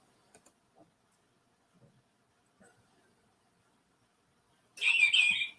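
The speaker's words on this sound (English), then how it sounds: "That's my bird clock. It goes off at" After a few faint soft taps, a bright electronic birdsong chime suddenly plays, short and clear against near silence.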